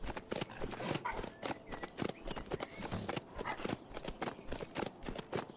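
Horse hooves clip-clopping in the zombie survival game HumanitZ, a steady, fairly close run of hoof strikes moving over the ground with no talk.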